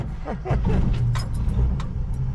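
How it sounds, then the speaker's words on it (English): A 60-year-old car starting up: a brief cranking rumble and clatter leading into a loud, rough idle, with small metallic clicks near the start. "But first we gotta start the 60-year-old car."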